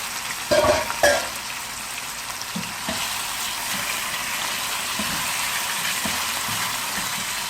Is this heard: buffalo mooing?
no